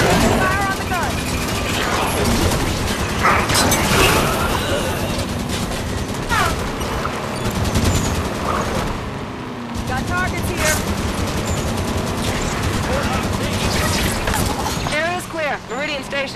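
Warthog turret gunfire in Halo 5: Guardians, sustained bursts mixed with explosions and vehicle noise in a busy battle, with voices talking over it throughout.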